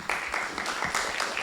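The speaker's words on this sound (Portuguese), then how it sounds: "Então, palmas para o grupo 1." A class audience at a basic Spiritism course applauds group 1 with a brief, dense burst of clapping that stays steady and fairly close for about a second and a half.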